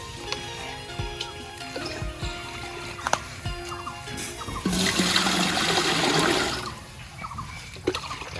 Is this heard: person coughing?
no